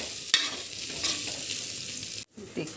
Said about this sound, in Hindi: इसको अच्छे से भूनने देते हैं। ताकि हमारा दाल गले और अच्छा टेस्ट आए भूनने के बाद।